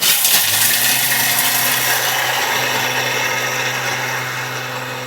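A kitchen machine at speed 9 mills almonds and buckwheat into flour, a loud, steady motor whir with grinding grit that holds for the whole stretch and eases only slightly toward the end.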